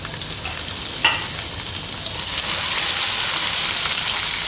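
Ginger garlic paste fries in hot ghee with a continuous close sizzle and crackle, growing slightly louder partway through, with a brief stirring scrape and no voices.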